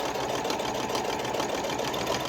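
A sewing machine runs back along a patchwork seam, a steady close buzzing whir that holds without a break, no voices over it.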